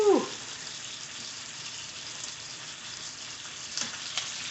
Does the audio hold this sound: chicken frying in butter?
yes